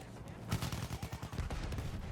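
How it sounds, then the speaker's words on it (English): Sustained battlefield gunfire from the video game Battlefield 1, a dense, continuous rattle of rapid shots with heavier booms mixed in, loud and unbroken throughout. "the constant sound of gunfire"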